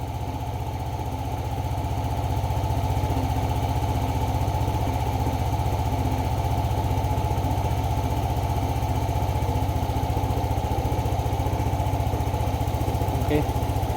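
A Yamaha Aerox or Nmax 155 scooter engine idles steadily up close, with a loud, even putter that holds across the whole stretch and a faint click near the end.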